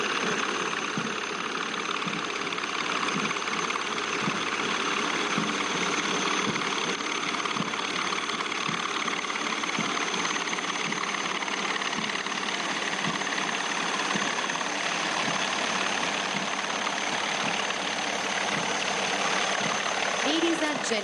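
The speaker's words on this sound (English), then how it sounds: "You can see 1 cheetah and 2 Chetak helicopters of 665 Army Aviation Squadron in PATS formation, proudly carrying the national flag" At an army officers' passing out parade, one Cheetah and two Chetak helicopters fly in formation, producing a steady, moderately loud rotor and engine drone with rhythmic thumping for the full stretch, while a voice talks over it.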